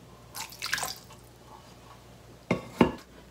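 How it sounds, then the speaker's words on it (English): Water poured into a pot of sugar, heard as two short, close splashing pours separated by a quiet pause. "and add water."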